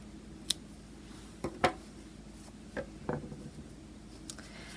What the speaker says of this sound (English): And you can cut off your yarn.